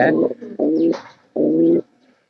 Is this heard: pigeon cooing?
yes